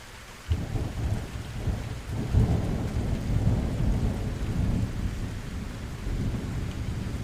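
Heavy rain falls steadily while deep thunder rolls and rumbles through the storm, starting with a sudden loud crack and then continuing as a low, sustained roar under the downpour.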